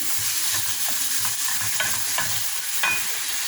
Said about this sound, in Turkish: Soğanımı, üç tane soğanı doğradım ince ince. Böyle pembeleşinceye kadar kavuracağım.